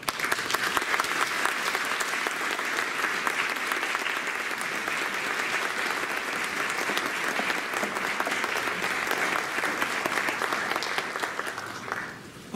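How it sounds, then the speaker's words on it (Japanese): Audience gives sustained, even applause at a JC branding seminar as the lecturer enters, a dense steady wash of clapping lasting about twelve seconds before tapering off at the end. "皆様盛大な拍手をお願いいたします。"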